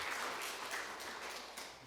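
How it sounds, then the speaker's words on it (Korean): Soft, distant congregation applause during a church service before Thanksgiving, a continuous wash of many hands at low volume. "자, 박수 한번 주시죠."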